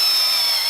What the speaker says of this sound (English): You'll hear the pitch of this drill change.